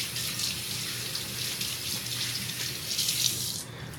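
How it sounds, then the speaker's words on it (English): Tap water runs steadily into a kitchen sink for hand washing, a close, continuous hiss and splash for about three and a half seconds before cutting off. "wash your hands."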